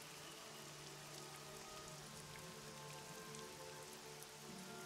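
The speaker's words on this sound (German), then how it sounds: "Ja, es regnet weiter." Steady rain falls as a continuous ambience over muddy fields by a farming village, a dense even hiss of drops at low level with no voices.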